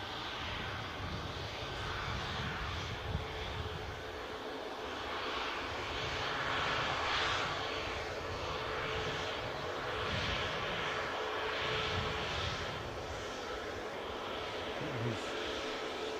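A TUI Boeing 737 MAX 8 taxiing toward the runway at Newcastle airport gives off a steady, distant jet-engine roar and rumble that holds at a constant moderate level with no talk over it.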